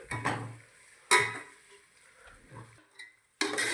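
A spoon stirs papdi beans, pigeon peas and vegetables for Kathiyawadi undhiyu in a pot, giving a few scraping, clattering strokes separated by quiet gaps, close by.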